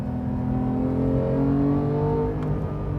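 A 2018 Porsche 911 GT3 with a manual gearbox and a Sharkwerks exhaust drones steadily from inside the car, its engine note gradually shifting in pitch as it pulls with no talk over it.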